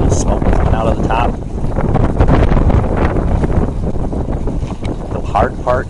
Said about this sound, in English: It was really, really getting windy out there.